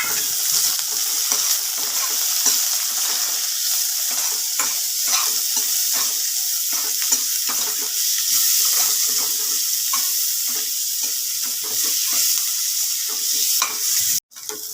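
Chopped onion and a green chili sizzle and fry in a pan while being stirred, a loud, continuous hiss with scraping stirring strokes, no speech.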